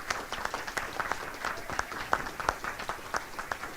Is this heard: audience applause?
yes